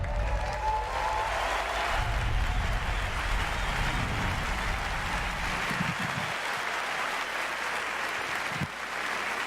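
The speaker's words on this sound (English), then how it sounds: "Another round of applause, please, from Marty, Hugo, and all of our presenters" Sustained applause from a crowd at Bethesda's 2019 gaming press conference, a dense steady patter of clapping that continues throughout at an even level.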